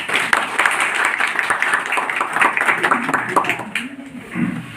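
Audience applause at a Teachers' Day gathering, a dense burst of clapping that carries on for several seconds, with a few voices mixed in toward the end.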